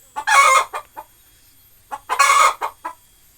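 Young chickens clucking in a small poultry rearing setup, two short bursts of loud, close squawky clucks separated by a brief quiet pause.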